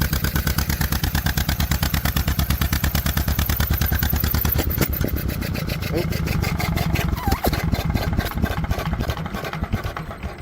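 A vintage John Deere MV tractor engine fires up and runs with a rapid, steady chugging beat, loud and close, the rhythm loosening partway through as it settles, with some outdoor background noise.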